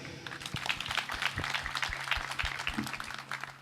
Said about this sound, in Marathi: यानंतर सगळे पुरुष टाळ्या वाजवतील महिलांसाठी, सगळे पुरुष